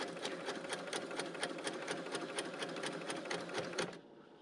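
A Bernina L890 sewing machine stitches binding onto a quilt with a 36mm binding attachment: a close, steady, fast needle rattle with even rhythmic ticks, stopping abruptly just before the end.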